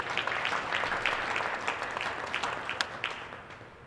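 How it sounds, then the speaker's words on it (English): A small gym crowd at a high school senior night basketball game gives a brief round of applause, scattered crisp claps blending into a light, steady patter that gradually thins. "I just want to give him a quick round of applause and his crew."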